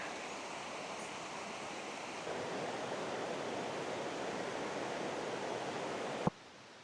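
A waterfall beside the short hiking trail to Machu Picchu gives a steady, full rushing roar that runs unbroken throughout and is cut by one sharp click near the end.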